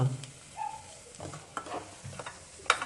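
Garlic frying in a pan before okra goes in for bhendi fry, a faint soft sizzle broken by a few light stirring scrapes and a sharp tap near the end.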